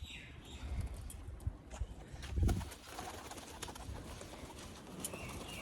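A pigeon coos softly a few times over a background of light rain patter and faint outdoor noise, with a dull thump near the middle.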